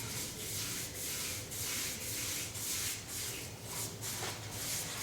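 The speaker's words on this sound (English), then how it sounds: "Put a little paint on, rub a little off, and then just hit it lightly," A dry brush scrubbing lightly over carved foam painted as faux stone on a fireplace, a steady, close, rhythmic rubbing with regular strokes about twice a second, alone without talk.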